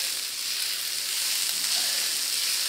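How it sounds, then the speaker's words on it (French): Onions and shallots cooking gently in butter in a wok, a soft, even hiss of frying that holds steady throughout, fairly quiet and close with no speech. "cuire ça tranquillement dans le wok, pas très fort, pour qu'ils deviennent translucides."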